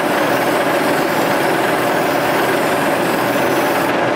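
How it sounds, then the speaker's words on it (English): A Case IH tractor idles in a field during guidance roll calibration, its engine producing a steady, loud, unvarying rumble and hum close by with no talk over it. "we have had the tractor on point on the AB line"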